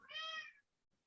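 A cat lets out a single clear, drawn-out meow close by, tonal and falling at the end, then quiet follows with no talking.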